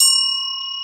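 A small metal bell from Korea rung once indoors, a bright clear ding with steady ringing overtones that sustain and slowly decay.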